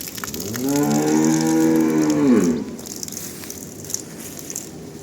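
A single long, loud moo from a large pregnant Jersey cow lasting a couple of seconds, deep and harmonic, then fading into quiet background ambience.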